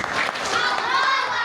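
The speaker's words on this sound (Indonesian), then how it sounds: "Kasih tepuk tangan dulu teman kita." A group claps for a child who has just recited the Qur'an at a public exam and graduation event, a brief burst of applause with children's voices chattering over it.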